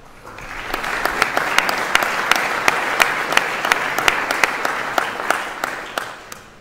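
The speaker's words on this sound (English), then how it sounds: "So let's give Kimo a round of applause" Applause from a conference audience welcoming a speaker to the stage: dense, steady clapping that swells quickly and holds evenly for several seconds, with a few sharper individual claps standing out near the end.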